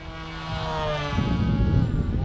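A small FT Arrow RC flying wing at full throttle at night, its propeller motor buzzing loud and steady with a whining tone that shifts in pitch as it passes, no talk.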